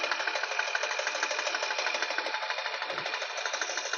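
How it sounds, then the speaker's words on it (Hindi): A thread-making machine runs with a fast, steady, rhythmic chatter at an even level throughout, close and continuous with no talk. "ये देखो, ऐसे धागा बनाया जाता है यहाँ पे मशीन से"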